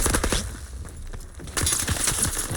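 Call of Duty gunfire rattles in two close, loud bursts of rapid automatic shots, separated by a brief lull, with no talk over it.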